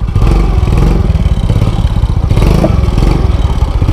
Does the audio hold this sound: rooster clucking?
no